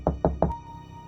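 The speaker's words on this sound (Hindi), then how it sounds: "और आपका दरवाज़ा नॉक होता है।" Three firm knocks on a bedroom door at night, evenly spaced and close, each a dull wooden thud followed by a brief quiet tail.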